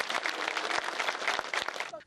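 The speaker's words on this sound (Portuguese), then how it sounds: "Na chegada do caixão, houve muita comoção e aplausos." Mourners at Rio's Caju cemetery applaud as Marielle Franco's coffin arrives, a short burst of crowd clapping with loud distinct claps, cut off abruptly at the end.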